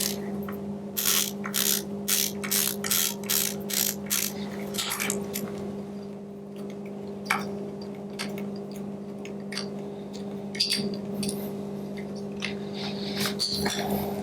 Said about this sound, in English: And then I have a 10mm socket wrench to just undo this.